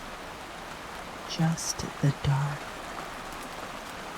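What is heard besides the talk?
heavy rain falling on a cabin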